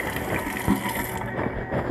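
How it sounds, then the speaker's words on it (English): Hands are washed under a running kitchen tap, a close, steady wash of water splashing with small clunks and shifting flow, no talking. "I'm going to wash my hands real quick"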